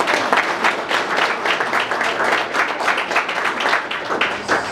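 A graduation audience for a university writing program claps loudly and steadily, a dense, close wash of many hands sustained throughout with no voices over it.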